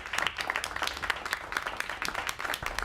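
Brisk, dense clapping from an audience welcoming a comedian to the stage in a movie scene, a steady patter of many hands at moderate volume, heard alone.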